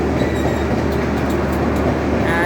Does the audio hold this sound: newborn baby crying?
no